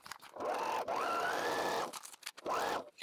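A sewing machine stitches a seam in linen-like gray fabric, two close whirring runs of rapid needle strokes separated by a short pause.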